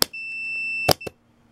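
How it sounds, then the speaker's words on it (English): A multimeter set to continuity mode gives a steady, close electronic beep when its leads touch across a wire, while testing a riding lawn mower's starter solenoid; the tone sounds alone and cuts off abruptly, followed by two brief clicks. "I'm going to touch the wire, and you're going to hear a beep."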